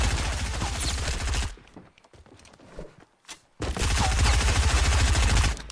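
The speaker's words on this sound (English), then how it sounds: "I got double pistols." Rapid bursts of double pistol fire in a Fortnite match, loud and dense for over a second, breaking off into quieter scattered shots, then resuming as sustained heavy gunfire to the end.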